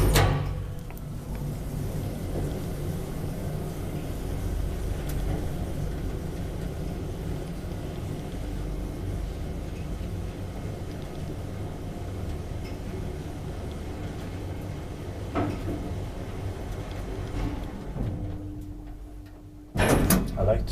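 Old 1972 Kone traction elevator in an apartment building in Lahti, Finland, running with a steady low rumble for most of the ride, then doors sliding with a couple of knocks and a sharp thud near the end.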